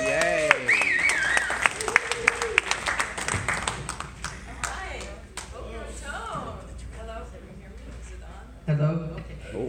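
A comedy club audience in Boca applauds and cheers as a stand-up comedian comes on stage. The clapping is brief and fairly light and gives way to the comedian talking into a microphone.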